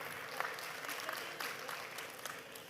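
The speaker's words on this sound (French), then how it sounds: "On l'applaudit très très fort." Soft applause from an audience at an education conference introduction, a quiet, distant patter of scattered clapping for under three seconds with a few sharper claps standing out.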